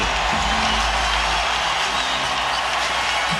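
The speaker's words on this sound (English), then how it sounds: "Crowd rising as one." A basketball arena crowd at a San Antonio Spurs playoff game against the Phoenix Suns swells into a sustained roar, a dense, loud wash of cheering voices that holds steady without pause.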